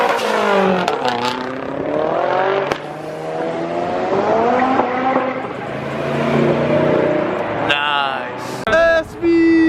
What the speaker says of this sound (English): sending it burnouts and some donuts